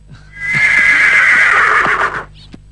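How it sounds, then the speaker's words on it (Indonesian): A horse gives one loud, close whinny lasting nearly two seconds, a high wavering neigh that rises and fades, with soft hoof shuffles before and after. "kuda sudah siap"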